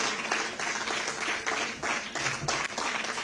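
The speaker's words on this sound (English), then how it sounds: "Let's give a warm round of applause to Major Muhammad Ali Shah" An audience applauds a keynote speaker taking the stage at a TEDx talk. The clapping is steady and moderately loud, a dense crowd texture throughout.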